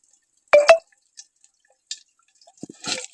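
Water from a tap into a basin in a village home, heard as a few sparse, close drips and splashes with quiet gaps between them.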